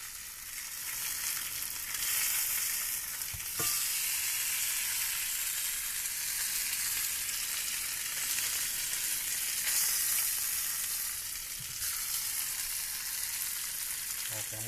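Beef short ribs sear in a hot pan with a loud, constant sizzle and hiss, broken by a couple of brief knocks and shifts as the meat is moved around.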